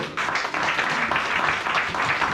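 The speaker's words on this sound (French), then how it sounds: "Acclamons pour l'homme de Dieu" A church congregation applauds the man of God, a steady, full crowd clapping held throughout at moderate loudness with no break.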